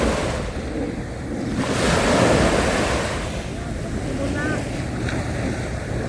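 Sea waves wash onto a beach with large ships nearby, a steady broadband surf roar with light wind buffeting the microphone, swelling slightly midway and continuing throughout.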